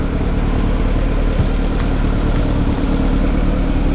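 A Honda Civic engine runs steadily after being cranked, a continuous loud low rumble with an even idle throughout and no talking.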